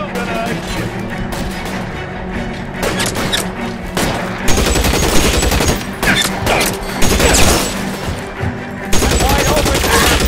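Rapid bursts of gunfire in the L.A. Noire video game, loud and dense, continuous volleys with sharp cracks throughout, some faint talk underneath.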